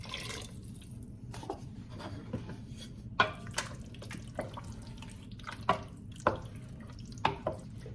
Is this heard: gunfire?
no